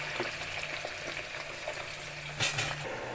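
Chicken pieces fry in hot oil for chicken pickle, a steady close sizzle with faint utensil clinks and a brief louder scrape of stirring near the end.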